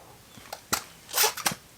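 Blue Columbia Newton Ridge Plus II hiking shoes give off a handful of sharp, snapping clacks, loud and close, in uneven bursts with a longer rasping scrape in the middle.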